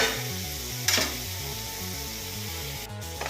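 Tomatoes frying in a pan for sabbakki avalakki upma, a steady close sizzle with light stirring and scraping of a utensil against the pan, with no talk.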